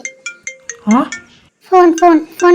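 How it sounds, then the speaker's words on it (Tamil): A phone rings in a short, repeated electronic chime pattern at the start, followed by a voice and other talk that take over the rest of the clip. "ஃபோன் அடிக்குது"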